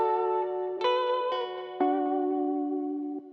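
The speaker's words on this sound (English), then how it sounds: "Now, there is some reverb and some delay." Clean electric guitar notes played in Ableton ring out with reverb and delay, a few plucked tones sustaining and trailing into echoing tails, alone and fairly loud.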